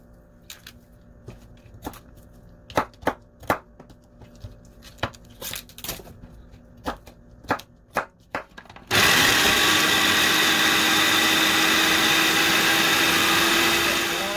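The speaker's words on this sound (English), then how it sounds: "I'm going to drop these onions and the celery in the food processor at the same time" A food processor chops onions and celery: first a run of sharp, irregular blade whacks and clatters, then the motor kicks in to a loud, steady whirring spin for the rest.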